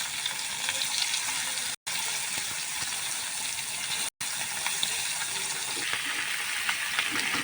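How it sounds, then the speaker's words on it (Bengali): Fish frying in a pan on a home village stove, giving a dense, continuous hiss and sizzle of oil heard close up, broken by two brief drops to silence. "মাছ ভাজা হয়ে গেছে"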